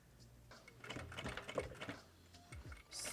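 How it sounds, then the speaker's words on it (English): A sewing machine runs in short bursts, stitching straight lines on a small fabric name tag, with a fast mechanical chatter, brief pauses and a slight hiss at the end, close and moderately loud with no talk. "You're literally just sewing straight lines."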